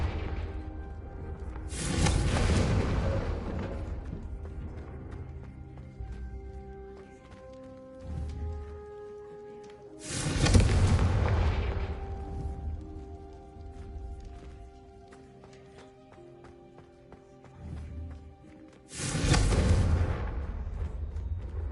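Fiery Confringo spell blasts in a Harry Potter-style video game, three loud whooshing bursts spaced several seconds apart, each erupting and trailing off into a low rumbling bed with faint game music between.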